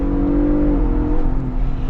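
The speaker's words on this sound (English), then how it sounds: "Notice it'll downshift for me because everything's set to the sport." 2022 Ford Bronco Raptor engine in sport mode, a loud close droning hum from inside the cabin that shifts pitch as the truck downshifts.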